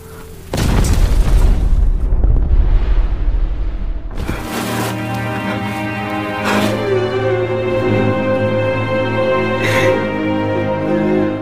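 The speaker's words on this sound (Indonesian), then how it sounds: "Akan tetapi di sana juga ada satu granat yang siap meledak." A grenade goes off in a war film set during the Japanese occupation of Korea, a loud booming blast with a long rumbling tail, followed by a sustained swell of dramatic orchestral music.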